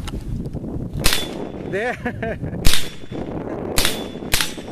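Mexar .22LR rifle firing at steel targets outdoors, four sharp cracks spread over a few seconds, each followed by a ringing metallic ping from the steel, with a brief spoken word between shots.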